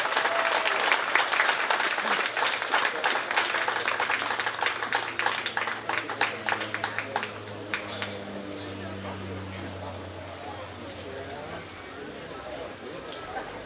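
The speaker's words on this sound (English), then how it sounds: "Let's give these kids a big round of applause." Audience claps for the 4-H sheep and goat showmanship winners at the Shelby County Fair. The applause starts dense and fades over several seconds, and someone speaks over the tail end.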